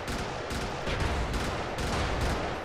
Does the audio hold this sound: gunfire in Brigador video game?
yes